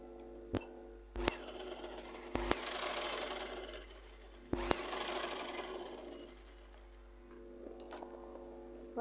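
A sewing machine runs in several steady whirring stretches while stitching fabric, a constant motor hum broken by sharp clicks as it starts and stops, fairly quiet and close.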